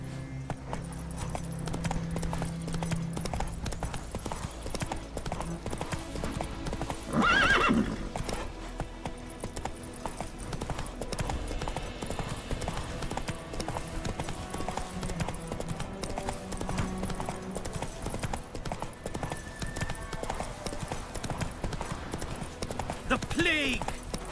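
Roach, the horse in The Witcher 3, gallops with a steady clip-clop of hooves and gives a brief whinny partway through, all under game voices and dialogue.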